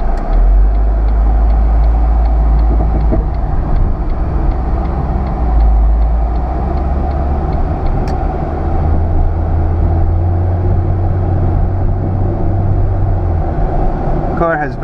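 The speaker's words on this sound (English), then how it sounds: "Car has very good acceleration," A 2005 Ford Focus estate accelerating on the road, its steady low engine and tyre rumble loud and continuous throughout, heard from inside the car with no talk.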